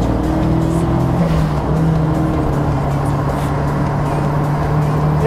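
A Toyota AE86 fitted with an SR20DET engine is driven hard, its loud, close engine droning steadily with shifting pitch throughout, and no voices are heard.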